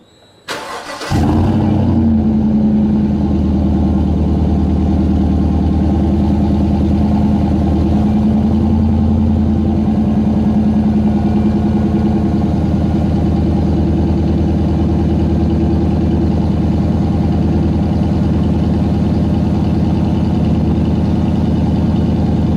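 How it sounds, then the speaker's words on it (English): Cold start of a Chevrolet Silverado 5.3 pickup fitted with a Borla S-Type exhaust: a brief starter crank flares into a loud, deep, steady idle rumble that holds for the rest of the clip, with no voices. "Here's a clip of a cold start."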